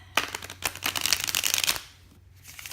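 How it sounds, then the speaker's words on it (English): A deck of cards riffled quickly in a crisp fluttering burst, with a few soft taps before it, then quiet. "I have shuffled these already, but just going to give them a bit more shuffle"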